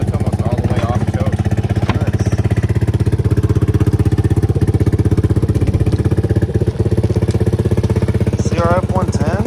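A Honda CRF 110 dirt bike engine runs steadily and loud up close, with a dense rapid firing pulse throughout and a brief throttle rise near the end, as people talk over it.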